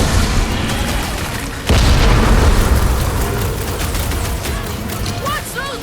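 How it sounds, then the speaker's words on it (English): Bombs burst in Marvel's Guardians of the Galaxy, loud booming blasts with a sharp heavy hit partway through followed by rumbling debris and scattered pops, close and continuous. "Watch those bombs! I'm not about to get blown up now!"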